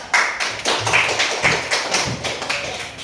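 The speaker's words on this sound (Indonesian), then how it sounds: "aplaus." A class of students applauds, a quick burst of crisp, close hand claps in rapid irregular patter lasting a few seconds.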